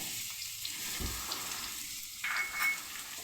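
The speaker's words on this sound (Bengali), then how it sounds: "পেঁপেগুলো দিয়ে একটু ভেজে নেব" Papaya pieces fry in a pan of oil for a pabda fish and papaya curry, giving a steady close hiss and sizzle with a soft low knock near the middle and a brief brighter flare toward the end.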